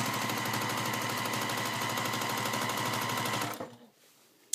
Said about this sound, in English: So I'm actually going to stitch in the ditch, making sure that all sides of the triangle have been stitched.